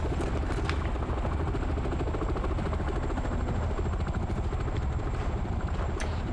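A military helicopter in the video game ARMA 3, set in Fallujah, thunders continuously with a loud, close rotor chop and engine whine throughout.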